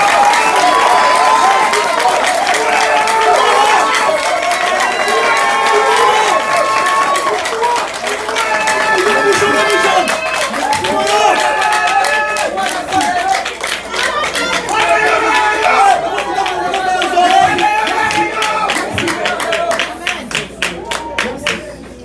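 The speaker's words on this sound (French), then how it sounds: "Je vous demande d'applaudir." Audience applause fills a hall during the installation ceremony of a new Haitian secretary of state for people with disabilities; steady clapping and crowd noise run throughout, mixed with voices and tonal sounds.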